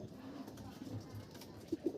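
A racing pigeon coos at its loft, low soft murmuring calls that rise to a couple of clearer coos near the end, quiet and close, with faint talk in the background.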